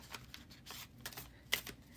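New tarot cards with an unusual coating being shuffled by hand, giving soft papery riffles and flutters at close range, with two sharper slaps near the end.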